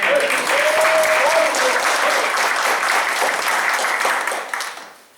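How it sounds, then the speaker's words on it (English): Sustained audience applause at a community town hall meeting in Baltimore, dense and steady clapping from a crowd with faint voices mixed in, fading out toward the end. "Round of applause, folks."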